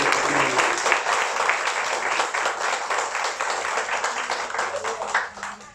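A church congregation claps and applauds in a dense, steady wash for several seconds, loud and sustained, with voices mixed into the clapping before it tapers at the end.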